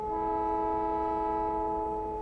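A train horn from the Factorio Honk mod sounds as one steady, sustained tonal blast of stacked harmonics, loud and close, holding evenly for about two seconds with no talk over it.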